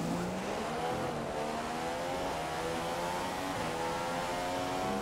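F1 race car in F1 2015 on the Mexico Grand Prix circuit, engine drone running steadily throughout with rising harmonic whine as it accelerates, loud and continuous with no talk.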